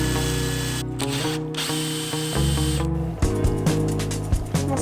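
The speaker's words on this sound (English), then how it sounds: "Mike is marking those out so that we can drill those holes out" A hole saw on a power drill grinds into a van kitchen countertop for faucet holes, the motor whining steadily with pitch changes and brief pauses, close and loud with no talk.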